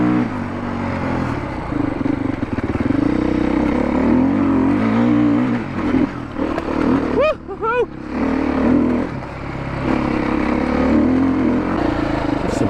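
Dirt bike engine on an adventure ride on trail tracks, a loud continuous drone that rises and falls with throttle and briefly revs higher, heard close from the rider's position with a voice talking over it.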